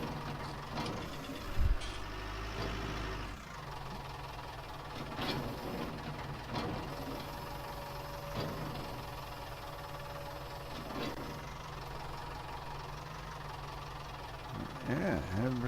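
A tractor engine in Farming Simulator 19 drones steadily as it drives in among grass bales, with a louder thump near the start and shifting tones toward the end.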